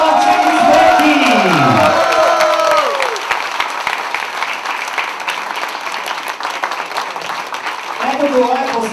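Wedding guests at the celebration for Slavcho and Tsveti applaud and cheer loudly, a dense crowd of clapping with whoops and shouts that carries on steadily, while voices call out over it.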